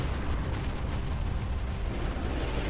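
A dense, roaring explosion rumbles continuously as an enemy structure is destroyed in the real-time strategy game Ground Control, a loud sustained blast with no speech.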